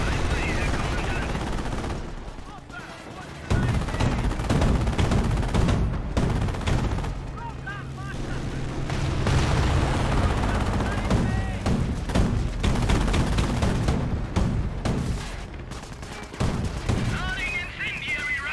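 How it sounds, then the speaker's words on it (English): Company of Heroes battle audio with machine-gun bursts, rifle shots and heavy booms from artillery and tanks, near and far, with voices speaking over the fighting at times. "They're firing at us!"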